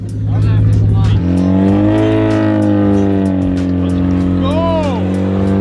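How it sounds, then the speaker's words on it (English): A monster car's newly fitted motor revs loud and close, a deep sustained roar that climbs in pitch and holds steady, with brief excited shouting mixed in. "you gotta really rev it up"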